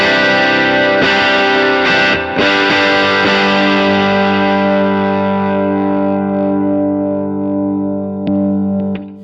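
Electric guitar run through a pedalboard with a chime pedal, ringing chords in layered shimmering sustain that swells early and slowly decays over several seconds, loud and alone.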